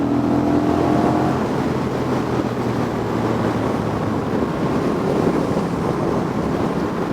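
A 2025 Honda Rebel 1100 SE DCT motorcycle on the move, its engine and stock exhaust giving a steady, fairly subdued drone mixed with heavy wind rush, with no talk over it.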